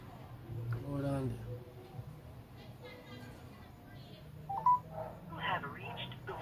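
A telephone number is dialed as a short run of keypad tones, fairly quiet. People talk over and around the tones.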